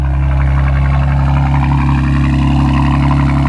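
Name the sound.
BMW G82 M4 cold start with loud exhaust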